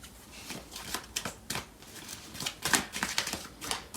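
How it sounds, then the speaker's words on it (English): Tarot cards shuffled and pulled from a deck during a love reading, giving a run of crisp, papery riffles and flicks at close range, with no talking. "I'm gonna pull out some cards on the other deck."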